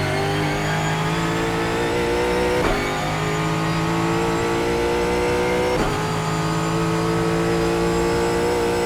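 A GT4 race car in iRacing on the Nürburgring Nordschleife, its engine droning loud and steady through sustained revs, with two brief shift-like dips along the way and no voices.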